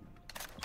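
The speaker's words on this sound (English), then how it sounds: "Swapping mags!" A weapon magazine swap during a reload in a shooter game, a couple of quick, faint mechanical clicks and clacks close by.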